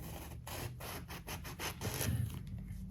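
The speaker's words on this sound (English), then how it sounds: "I find a bread knife works really good in cutting these off, slicing them up" A serrated bread knife saws through eggplant, cutting off the ends and slicing it, with a steady run of close, rasping strokes in a regular back-and-forth rhythm and no talk.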